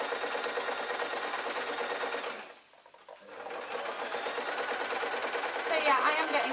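A domestic sewing machine stitching an adult Scottish kilt, a fast, steady mechanical whirring chatter up close that briefly stops and then resumes, with a rustle of fabric near the end.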